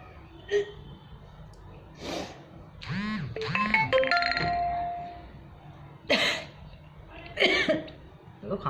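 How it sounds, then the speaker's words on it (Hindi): Several short, sharp coughs burst out in separate fits, close by, with a chiming electronic tone sounding in between. "वो खांसी हो गई"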